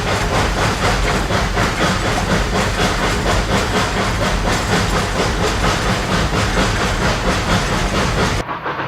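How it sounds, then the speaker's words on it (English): A Rio Grande narrow gauge steam locomotive on the Cumbres & Toltec Scenic Railroad working hard to pull its train, with loud continuous steam hiss, rhythmic exhaust chuffs and rail clatter close by, cutting off abruptly at the end. "the engineer diligently coaxes the maximum amount of power out of the engine without slipping the drivers"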